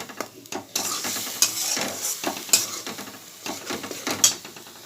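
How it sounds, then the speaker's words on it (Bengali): A spice masala for hilsa fish kalia is stir-fried in a pan, with a bright continuous sizzle broken by repeated scraping strokes of a spoon and occasional metallic clinks, close and steady. "মশলাটাকে কষিয়ে নেব। মশলাটা একটু কষা কষা হোক।"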